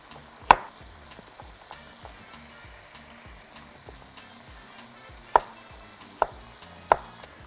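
Carrot being chopped into large pieces with a knife on a board, several sharp, close thuds at uneven intervals over a faint background sizzle, with no voices.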